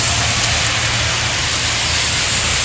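Steady rain falls outdoors in spring, a dense, even hiss that fills the whole moment without pause, loud and close, with no voices over it.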